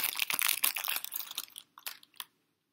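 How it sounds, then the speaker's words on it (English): Plastic wrap on a Pokemon Shining Legends Elite Trainer Box crinkles and crunches close up in a dense burst of rustling, thinning into a few separate crackles before falling silent. "Okay, plastic covering."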